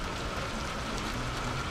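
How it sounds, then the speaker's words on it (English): Steady rain falls at a campsite beside a Jeep used for living on the road, a soft, even hiss that stays at a constant level throughout with no talking. "It also started to rain."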